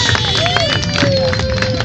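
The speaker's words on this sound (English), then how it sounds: "There you go, round of applause." An outdoor crowd at the Billie Swamp Safari alligator show applauds after a handler spins and rides a gator, a dense clatter of clapping mixed with cheers, a whistle-like tone and babbling voices.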